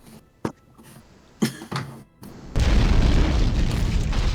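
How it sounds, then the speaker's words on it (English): Satchel-pack bombs explode in Morrowind: a few sharp thuds and pops, then a loud, sustained rumbling blast with crackling debris that continues to the end. "That is an explosion."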